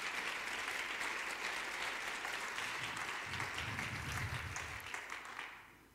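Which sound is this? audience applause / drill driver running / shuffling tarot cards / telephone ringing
audience applause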